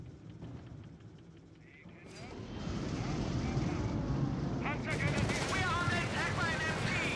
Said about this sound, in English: MG is opening fire